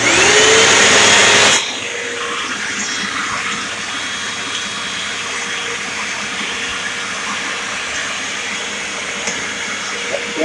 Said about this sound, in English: We're just going to try the paper filter. We're just going to vacuum it off